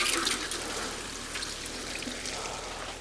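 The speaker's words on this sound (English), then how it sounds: "Let's water these in now really well here." Water pours steadily onto freshly planted garden plants during fall garden chores, a continuous splashing and trickling that stays close and fairly even for about three seconds.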